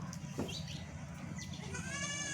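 Goats bleat softly in a livestock pen, a few short, faint cries against a low background hum.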